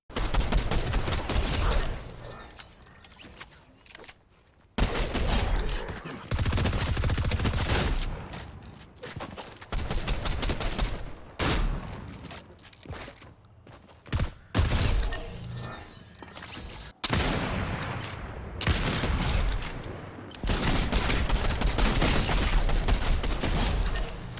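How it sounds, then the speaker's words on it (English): Gunfire in the Fortnite video game, including sniper shots, comes in loud, dense bursts broken by short quiet gaps, with sharp crackling impacts that stay close and dominate the whole stretch. "will it work in my favorite game where I like to crack some sniper shots in Fortnite?"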